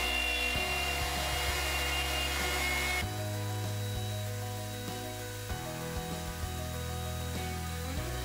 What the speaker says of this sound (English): Took and drilled a hole in there